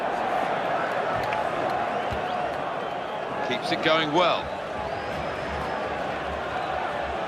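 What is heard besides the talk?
stadium crowd cheering in video game FIFA 13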